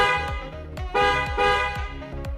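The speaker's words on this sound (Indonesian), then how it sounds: "kita akan tes suara klakson 9 Sound Black-nya" An aftermarket 9 Sound Black car horn fitted to a Mitsubishi Xpander being tested, sounding loud, close, harmonic blasts in several quick pulses that rise and shift in pitch.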